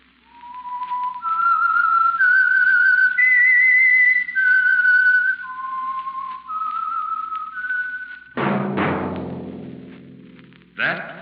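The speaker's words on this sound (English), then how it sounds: "That whistle" A clear, loud whistled melody with sustained, sliding notes, the opening signal of the 1945 radio mystery show The Whistler, ending in a brief burst of orchestral music.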